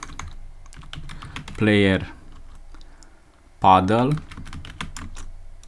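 Someone types on a computer keyboard while coding a Pong game in Python, with light, irregular clicks up close; someone talks briefly twice over the tapping.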